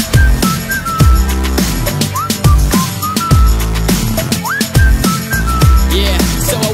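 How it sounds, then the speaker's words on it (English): Melodic whistling in a pop song, short rising and falling whistled phrases riding over a punchy beat with deep bass hits, loud and close throughout. "so I whistled at her"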